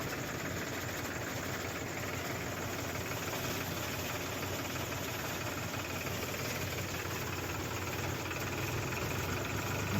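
A window-style fan machine blows dust out of threshed peanuts, making a loud, steady mechanical drone and hum with faint rattling vibration that runs unbroken throughout.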